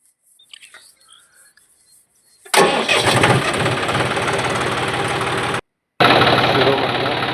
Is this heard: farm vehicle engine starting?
yes